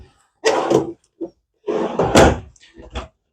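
Side cabinet doors in a 2015 Newmar Dutch Star motorhome are handled, making several knocks and clunks close by in two clusters with quiet gaps between them.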